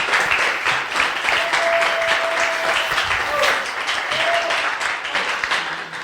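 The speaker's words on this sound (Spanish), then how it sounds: "primero un aplauso, por favor, para Xochitl." Audience applause for Xochitl Pérez after her Elixir programming talk at a tech conference: a sustained round of clapping from a seated crowd, with a faint whistle-like tone briefly sounding through it and some murmured voices underneath.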